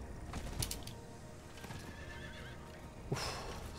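A horse in Diablo IV gives a loud whinny, then steady clip-clop of hooves runs beneath a busy game soundscape, with a second sharp neigh near the end.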